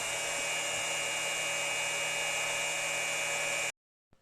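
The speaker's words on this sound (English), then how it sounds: "now I can increase the spindle speed on the computer, and you can hopefully hear that spinning up" A CNC mill spindle on a granite surface plate machine whirs at a steady high pitch, constant and fairly quiet, then cuts off abruptly.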